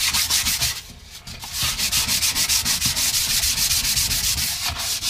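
Hand sanding roughs up the plastic surface of a boat livewell with light pressure, a steady rhythmic back-and-forth scratchy rubbing of even strokes, close and loud with a brief lull near the start and no talking.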